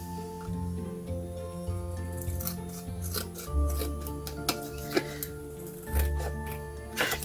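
Scissors trim paper ephemera for a craft project, producing steady close snipping and rubbing sounds with repeated sharp cuts over several seconds.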